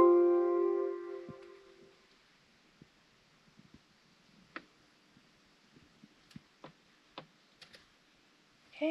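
Sparse, faint mouse clicks on a computer sending a Holley engine tune to the ECU of a turbo 302, scattered sharp ticks in a quiet room after a short fading tone at the start.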